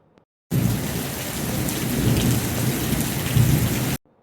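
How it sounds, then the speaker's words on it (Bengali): Steady morning rain pours down in a dense, continuous hiss of drops that starts abruptly and stops just as suddenly, close and fairly loud with no voices. "আজকে সকালবেলা বৃষ্টি নামছে বেশ ভালো লাগতেছে"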